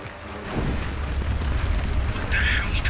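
A roaring fire and explosion in a video game as a huge pile of money goes up in flames, a dense continuous rushing blaze throughout, loud and close with no talk.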